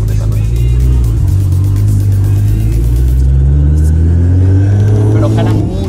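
Chevrolet Camaro ZL1 running on 40% ethanol, its engine holding a loud, steady, even rumble up close with slight revving swells, with people talking over it throughout.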